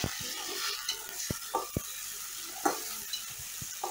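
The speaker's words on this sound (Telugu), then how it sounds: "ఒక 2 నిమిషాల తర్వాత టమాటాలు కూడా వేసుకొని బాగా ఫ్రై చేయాలి." Tomatoes and green chillies fry in an oiled pan for street-style Andhra veg fried rice, giving a steady sizzle broken by sharp clinks and scrapes of a spoon stirring against the metal.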